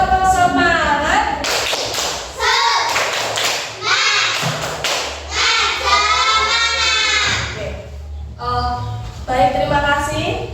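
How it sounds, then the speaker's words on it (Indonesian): A school class performs a rhythmic spirit-clapping routine, loud bursts of claps and thumps in a patterned beat, mixed with voices chanting and talking in a room. "Tepuk semangat dulu biar kok kayak tepuk semangat."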